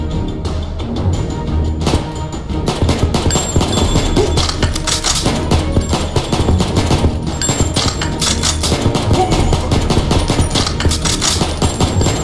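Sustained automatic gunfire from a first-person shooter video game, loud, dense rapid bursts of shots running continuously with no pauses.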